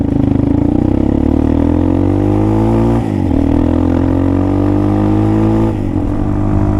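A Hawk DLX 250 motorcycle engine with a new exhaust idles and revs steadily with a deep, throaty exhaust note, loud and close, with brief dips in the rumble.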